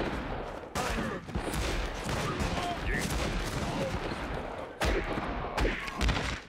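Gunshots in the Western multiplayer game Fistful of Frags: sharp, loud reports ring out at irregular intervals over a busy bed of fire and clatter, with a few close, heavy blasts standing out.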